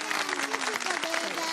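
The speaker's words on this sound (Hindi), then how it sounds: "तालियां तो बजा दें।" An audience at a Ramadan television kids segment applauds a child who has just recited a naat, with brisk, fairly loud clapping mixed with voices.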